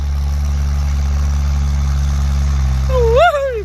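A Kubota L4708 tractor engine idles steadily, a close, low, even drone with no change in pace, ending with a short wavering yelp-like call over it.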